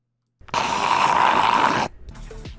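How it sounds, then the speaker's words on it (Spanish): An AI-generated dog growl effect, one sustained rough, throaty snarl about a second and a half long, loud and close, followed by a brief softer rasp. "Eso me parece el gruñido de un perro."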